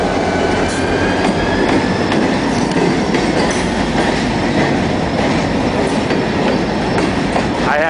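An alien-themed toy train runs along its track with a continuous rolling rattle and a steady clickety-clack, joined by faint squeals, close and loud throughout with no talking.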